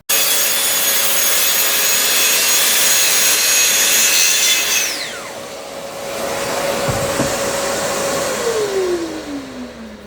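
A track saw rips through a wood board along a guide rail fitted with the TSO Narrow Stock Pro system, the motor whining loudly and steadily under the cut before spinning down and trailing off near the end.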